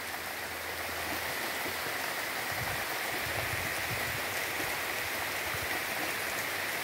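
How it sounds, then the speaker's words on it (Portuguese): Heavy rain pours down steadily in the village of Povoado Nicó in Itabaiana, Sergipe, a dense, constant hiss of water falling on surfaces with no pauses, fairly soft and even. "A chuva caindo com força"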